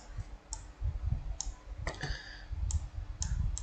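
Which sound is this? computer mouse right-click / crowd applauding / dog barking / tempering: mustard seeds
computer mouse right-click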